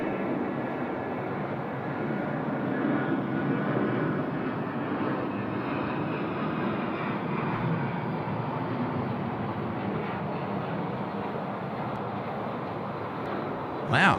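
A BAe 146 in a very dark livery moves around Sydney Airport at night, its engines giving a sustained, even roar at moderate distance for the full stretch, with a short sharp knock right at the end.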